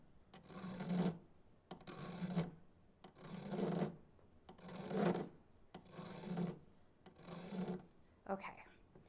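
Coarse file dragged straight across a metal surface to texture it, making six or seven slow, evenly spaced rasping strokes close up, each a loud grinding swell that then fades.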